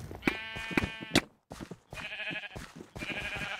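Repeated sheep bleats from a video game, several loud calls in quick succession, then a brief gap and more bleating, with a voice talking quietly beneath at times.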